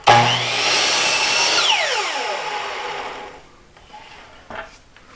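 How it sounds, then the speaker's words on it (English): A miter saw slices a thin piece off a scrap of 1x6 wood. Its loud motor whine bites into the board, then spins down with a falling pitch, followed by a few light clicks and knocks. "I'm just going to take a little slice off of it."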